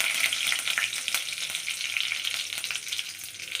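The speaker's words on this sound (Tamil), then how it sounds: "கடுகு போட்டாச்சு கடுகு பொரியுது" Mustard seeds crackle and pop sharply in hot oil over a continuous bright sizzle, close and fairly loud, with no voices.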